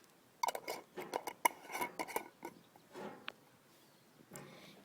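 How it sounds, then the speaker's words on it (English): A lid is fitted onto a container holding a snake skin soaking in a tanning mix, a quick series of close plastic clicks, taps and knocks followed by a few softer handling sounds. "And then you can just put on your lid."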